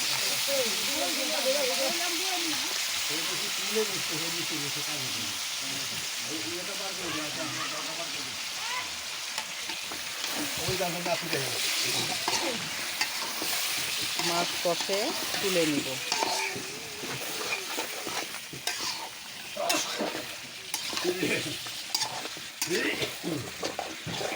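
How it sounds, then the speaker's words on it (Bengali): Large boal fish frying in a pan, a steady loud sizzle and hiss with frequent stirring scrapes and clatter, close by and continuous with no speech over it. "এখন মাছ দিয়ে দিলাম বড় বোয়াল মাছ"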